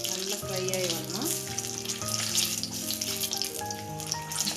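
Peanut-stuffed capsicum fries in a pan with a steady, crackling sizzle, joined by sustained tonal background sounds throughout.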